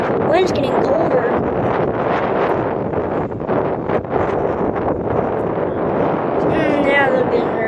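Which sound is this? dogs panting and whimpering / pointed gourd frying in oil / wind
wind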